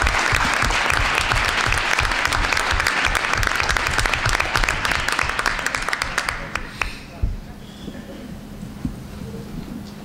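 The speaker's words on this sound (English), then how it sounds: "they deserve a big hand for that." A school board meeting audience applauds two students, dense sustained clapping for about seven seconds that then thins out and fades to scattered claps and room quiet.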